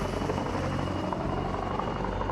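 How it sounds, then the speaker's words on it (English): A military helicopter in Iraq gives a steady, fairly distant rotor thrum with a low chopping drone that holds at an even level throughout. No voices are heard. "Several times we get dropped out of position or have to run 500 yards to where the helo is"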